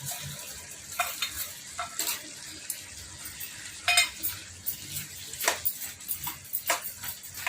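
Small bommidi fish frying in a pan with raw mango pieces, steady crackling sizzle broken by sharp stirring and clinking of a utensil against the pan at irregular intervals.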